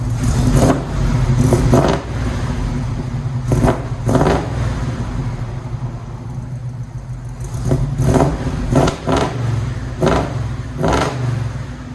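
An International Scout 800's rumbling V8 engine idles loudly nearby, measured at 111 decibels, punctuated by several sharp revs and throttle blips at irregular intervals; no speech.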